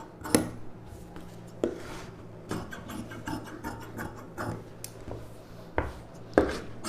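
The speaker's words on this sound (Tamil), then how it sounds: "இந்த ஷேப்பை அப்படியே கட் பண்ணிவிடுங்க." Scissors cut through silk saree blouse fabric on a table, making sharp, close snips and soft shearing at irregular intervals, with a few louder clicks.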